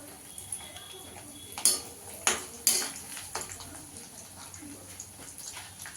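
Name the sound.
coconut being fried and stirred in a pan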